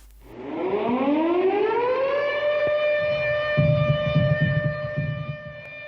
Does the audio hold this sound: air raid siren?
yes